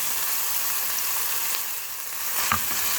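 Ground beef sizzles steadily in hot oil with red pepper powder, a continuous close crackling fry with a brief louder spatter of stirring near the end.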